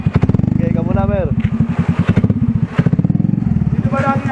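A motorcycle engine runs close by with a steady, pulsing idle and a brief rev, on a ride through Matnog, Sorsogon, as people talk over it throughout.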